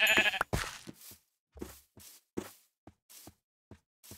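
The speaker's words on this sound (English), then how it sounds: "Okay, we got some sheep here." Several short sheep bleats from Minecraft game sheep, spaced irregularly over a few seconds, fairly faint and with no talking.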